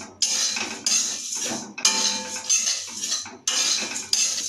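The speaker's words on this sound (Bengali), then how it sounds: "এখন আমি চিড়েগুলো ভেজে নিচ্ছি, অল্প আছে ভাজবেন।" Flattened rice (chira) is fried and stirred in a pan, producing bright, dry scraping and rattling in several sustained bursts separated by short pauses, close and fairly loud with no talking.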